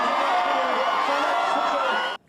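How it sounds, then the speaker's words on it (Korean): Crowd on Wolhwa Street in Gangneung letting out a joyful roar of cheers and whoops, loud and sustained for a couple of seconds before cutting off abruptly. "같은 시간 강릉 월화거리에서도 기쁨의 함성이 울려 퍼졌습니다"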